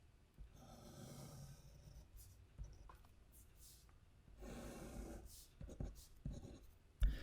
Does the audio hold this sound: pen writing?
yes